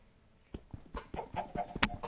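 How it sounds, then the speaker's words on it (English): A video game chicken clucking in a quick run of short, choppy clucks and squawks, close and moderately loud, growing busier toward the end, with no talking. "No, get away, chicken."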